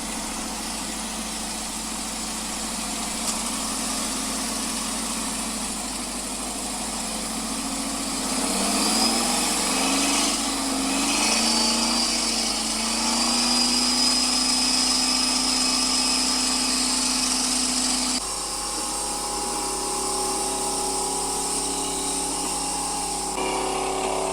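A Ford F-250 engine held at full throttle, a loud sustained roar with rising harmonics mid-way and a steady mechanical drone throughout, no talking.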